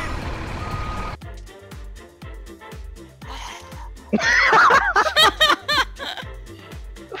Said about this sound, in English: It actually beeps!